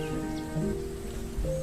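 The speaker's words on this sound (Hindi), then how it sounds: "बारिश बंद होने के बजाय और तेज हो गई" Heavy rain falls as a steady, soft wash of patter beneath layered tonal music, continuous and fairly quiet throughout.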